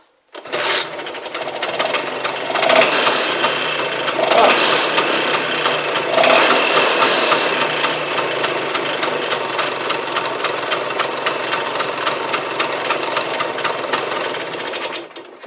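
A Vespa PX scooter engine runs close by with a fast, rattling steady idle that continues without a break.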